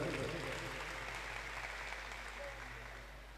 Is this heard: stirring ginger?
no